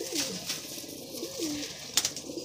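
Pigeons of the Madrasi high-flying breed coo in a loft, a few soft rolling calls close by, with faint scattered chirps and no talk.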